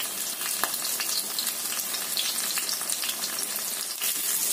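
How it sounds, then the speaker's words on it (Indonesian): Shallots sizzling steadily in hot oil in a pan, a dense continuous crackle with occasional sharper pops, close and fairly loud throughout with no talking. "Ini kita akan goreng dulu bawang merahnya."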